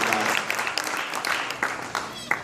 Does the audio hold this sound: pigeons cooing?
no